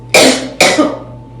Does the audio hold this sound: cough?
yes